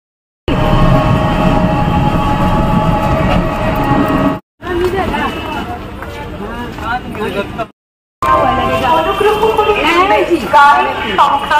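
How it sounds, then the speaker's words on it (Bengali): A Diamond Harbour–Sealdah local train rolls loudly into a station platform, with rumbling carriages and squealing wheels, broken by brief gaps, over a background of crowd chatter. "ডায়মন্ড হারবার শিয়ালদা লোকাল 1 নম্বর প্ল্যাটফর্মে আসছে।"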